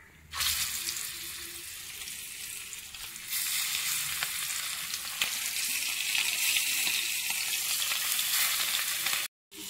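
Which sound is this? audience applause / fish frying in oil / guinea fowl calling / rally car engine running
fish frying in oil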